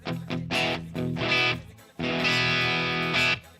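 An electric parts-caster guitar with DiMarzio Super Distortion pickups plays heavily distorted chords through the STL Amphub plugin, short chugging stabs followed by a longer ringing chord, loud and close with no talking.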